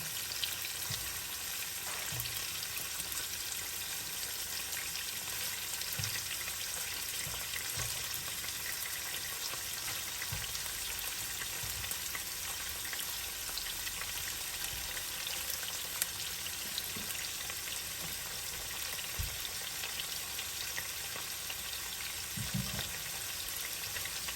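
Shrimp frying in a pan for palabok, a steady close hiss of hot oil sizzling throughout with occasional soft pops and stirring clicks, no talking.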